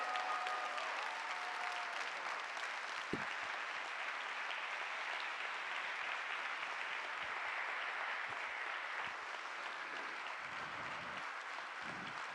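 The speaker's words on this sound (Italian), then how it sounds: "Lo senti questo applauso?" An audience at a political event in Naples applauds in steady, dense clapping that fills the whole stretch at an even level, with a few louder individual claps and faint voices mixed in.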